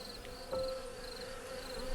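Bees buzz around flowers in a soft, continuous hum, with a brief louder pass as one flies close, faint and steady against a quiet outdoor background.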